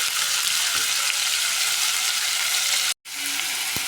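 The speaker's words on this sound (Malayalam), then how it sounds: "ഒരു സവാള ചെറുതായിട്ട് കട്ട് ചെയ്തത്, ഒരു തക്കാളി, കറിവേപ്പില ഇട്ട് നന്നായിട്ട് ഒന്ന് വഴറ്റി കൊടുക്കാം." Chopped onion, tomato and curry leaves sautéing in a pan for a green pea curry, giving a loud, steady crackling sizzle that cuts out for an instant before resuming, with a light knock near the end.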